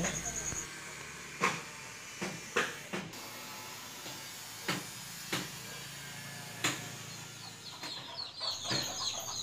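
Native desi chicken chicks, ten to fifteen days old, peep in short scattered bursts in a roadside garden over a steady background hiss.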